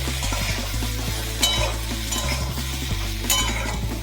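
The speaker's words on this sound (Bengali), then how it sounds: "একটু নাড়িয়ে নিয়ে" Vegetables with salt and turmeric being stirred in a pan for a Bengali shukto, a steady close sizzle broken by repeated scraping strokes of a spoon against the pan.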